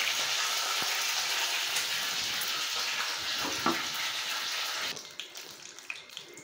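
Curry leaves and red chili hit hot oil for a pumpkin curry, producing a loud, close, continuous sizzle that drops off sharply near the end, with no talk.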